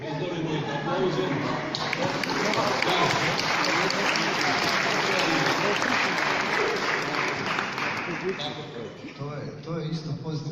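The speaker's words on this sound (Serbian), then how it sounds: "pozdravimo ih aplauzom" A lecture audience at a public science talk applauds in a dense, sustained wash of clapping that fills most of the stretch before thinning out near the end.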